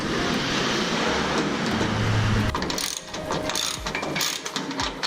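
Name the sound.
tightening caster bolts on a tool cart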